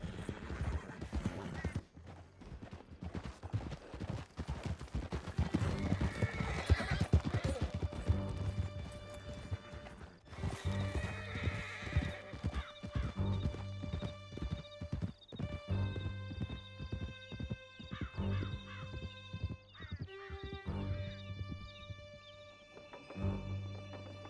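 Horses in Red Dead Redemption 2 galloping hard through a canyon, rapid pounding hoofbeats running almost continuously, with neighs and whinnies breaking through and a musical score underneath.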